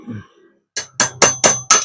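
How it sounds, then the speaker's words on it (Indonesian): A hammer taps a bolt on the gearbox of a Panasonic F-EK306 electric fan, giving five sharp metallic strikes in quick, even succession, loud and close, after a brief soft handling noise. "Kita ketok ke kiri."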